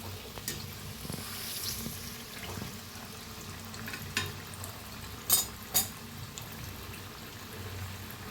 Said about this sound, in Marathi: असं खालीवर असं तळून घ्यायचं छान असं क्रिस्पी होईस्तोवर